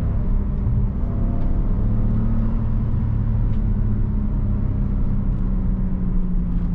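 A BMW 535xi E61 tuned to 370 hp with a JB4 module drives along a countryside road, its engine and tyres producing a steady loud rumble with a rising drone as it pulls under acceleration.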